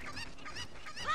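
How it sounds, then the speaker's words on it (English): Cucco chickens in The Legend of Zelda: Ocarina of Time give short honking, goose-like clucks that repeat quickly over about a second and get louder at the end. "Just run up, pick up the chicken, just throw it in the pen."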